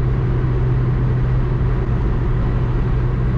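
Inside a 1992 Citroen ZX pushed to top speed on the highway, the strained engine keeps up a loud, constant low drone with slight wavering rumble throughout.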